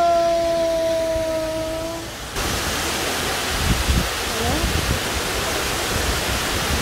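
Abbey Falls waterfall in Coorg, India, a dense continuous roar of falling water close by, loud and steady after a short stretch of quieter tonal sound at the start.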